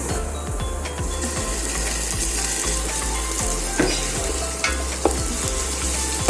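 Ginger-garlic paste and onions fry for chicken dum biryani, a loud, dense sizzle filling the pan close up, broken by occasional scraping strokes and light clinks of a ladle.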